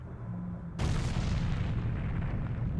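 Explosion in the video game The Legend of Zelda: Ocarina of Time: a sudden loud blast bursts in just under a second, then a dense rumbling roar carries on to the end, with no voices.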